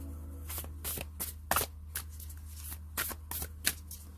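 Tarot cards shuffled by hand during a love reading, a quick series of crisp riffling bursts and soft slaps repeating at an uneven rhythm, close and clear over a low steady hum.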